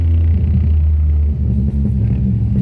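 A car fitted with a 4-into-1 exhaust header and a sport muffler idles with a loud, deep, close rumble that throbs steadily and dips briefly near the end, with no talking.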